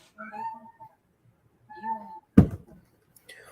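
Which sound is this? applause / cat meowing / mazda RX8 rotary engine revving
cat meowing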